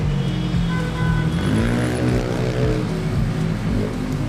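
A Philippine Airlines Airbus A330 landing at Manila Airport, heard close as a loud engine roar with droning tones that shift in pitch as it passes.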